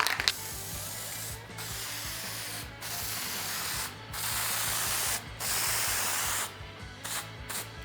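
Rattle-can spray paint hissing in several long bursts separated by short pauses, applied as a light coat on a fuel filler neck for a 1967 Barracuda, with faint clicking of the can's nozzle between passes.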